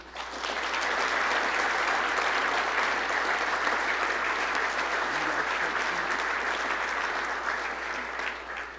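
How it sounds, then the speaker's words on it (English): Football banquet crowd applauding as team awards are presented: sustained, even clapping from a large room, steady throughout and tapering slightly at the end, with a low hum underneath. "I'll give everybody a round of applause here."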